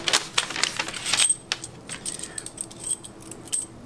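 Metal keys for a locking mailbox jangling and clinking together in hand, close and bright, in busy irregular bursts throughout with no talking.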